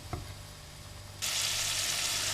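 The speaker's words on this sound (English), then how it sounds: "When the butter starts to melt, just stir this through gently for a couple of minutes" Smoked salmon being stirred through melting butter in a pan: a quiet low hum at first with a faint tap, then a sudden bright, steady sizzle that continues evenly to the end.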